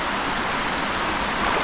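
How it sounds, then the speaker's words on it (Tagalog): Fast-flowing river current rushing through a flooded dam spillway, a loud, steady broadband roar with no pauses, heard up close. "Gawa ng mabilis yung agos."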